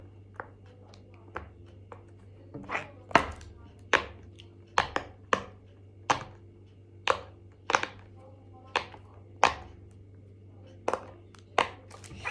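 A series of sharp, separate pops from a pop it fidget toy, spaced unevenly about a second apart, crisp and close, over a low steady hum.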